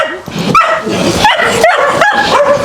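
A dog at a home visit in Manchester, Jamaica barks in loud, close yips and bow-wows broken by high whimpers, repeating steadily throughout.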